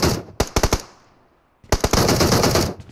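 Bursts of automatic gunfire from a firefight in PUBG Mobile, a rapid volley, then a short lull and a longer sustained string of shots, loud and close.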